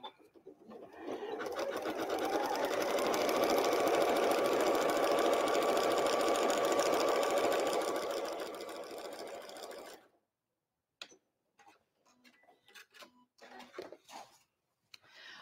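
A sewing machine stitches steadily for about eight seconds at close range, then stops, leaving a few faint clicks and soft handling sounds.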